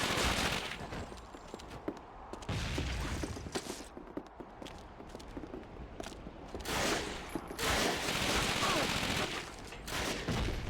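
Hip-fired weapons in the video game Call of Duty Finest Hour, dense bursts of rapid gunfire and explosive bangs layered over busy game noise, continuous and fairly loud.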